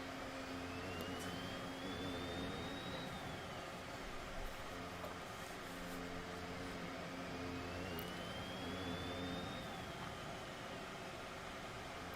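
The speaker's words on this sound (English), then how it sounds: "Interesting sound from the engine of that Haas there." A Haas Formula 1 car engine screams in a racing video game at the Hungarian Grand Prix, a continuous loud high whine that climbs in pitch twice as the car accelerates, with no talk.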